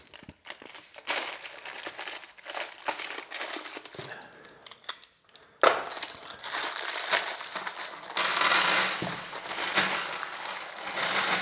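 Plastic bag of bolts and nuts from a hardware kit being torn open and crinkled, with clinking metal parts, a steady close rustling that grows busier and brighter toward the end.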